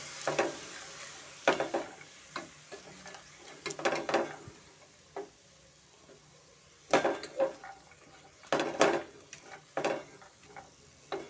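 Tomatoes, fenugreek leaves and field beans fry in oil in a pan, with intermittent spatula scrapes and clanks over a faint sizzle, in bursts separated by quieter pauses.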